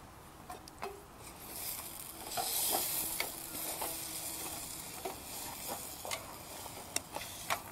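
Quiet frying hiss with scattered clicks and scrapes as scrambled eggs with onions are stirred in a nonstick pan, soft and close.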